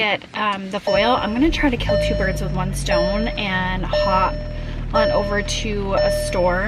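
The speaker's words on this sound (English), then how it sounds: "Sorry about the beeping." Repeated electronic beeping from a car while driving to a store, a series of short tones sounding intermittently under someone talking continuously close by.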